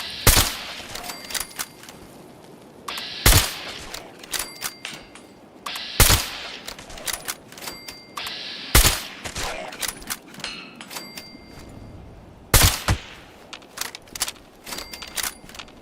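Gunfire in the video game Fallout 76 arrives in bursts of sharp, loud shots separated by short pauses, with small clicks and rattles between the volleys.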